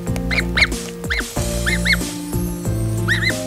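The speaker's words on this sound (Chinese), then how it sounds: "还听到了小鸭子的叫声。" Newly hatched ducklings peep in short, high, repeated double chirps against a steady background hum, with a few brief pauses between the bursts.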